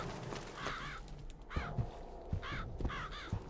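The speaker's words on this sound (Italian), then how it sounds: "Corvi ovunque!" Crows cawing in Bioshock Infinite, a series of harsh, clear caws repeating in an uneven rhythm, fairly close and alone.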